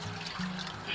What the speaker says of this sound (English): I'm going to pour my water in here.